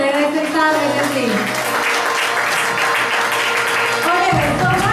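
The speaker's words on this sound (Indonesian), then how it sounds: "kita sambut dengan tepuk tangan meriah Ibu Novita Anggun dari Reserta Regency." Audience applause greeting a speaker at a talk, a dense steady wash of clapping close and loud for about four seconds, with a voice speaking over it.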